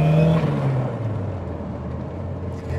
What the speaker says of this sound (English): I love that boost to me. Hearing the spool.